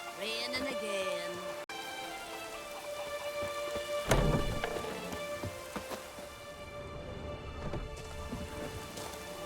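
Steady rain pours down in The Witcher 3: Wild Hunt, a continuous hiss of drops spreading across the scene, with a sharp louder burst partway through and soft tonal game ambience lingering beneath.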